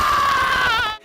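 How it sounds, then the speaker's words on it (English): Courage, the cartoon dog, lets out one sustained, high, wavering scream that holds steady, trembles toward the end and cuts off abruptly after about a second, loud and alone. "the show followed Courage, a dog so scared he'd scream like a banshee"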